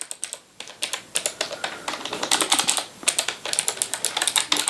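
Rapid clicking keystrokes on a Logitech G915 keyboard, fresh from its box, tapping in an uneven run of crisp close-up strokes with no talking.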